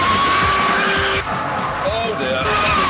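Car cornering hard with stability control switched off, tyres squealing in long wavering tones over a strained engine, loud and close for a few seconds.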